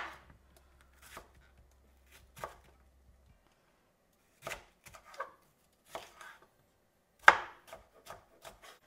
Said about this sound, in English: I'm just going to roughly chop up one red pepper